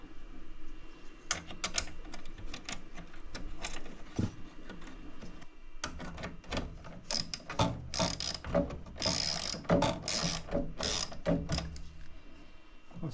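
A lock nut and washers being fitted onto a 95mm DC cable terminal, close-up metallic ratcheting clicks and taps coming in irregular bursts, faint and alone.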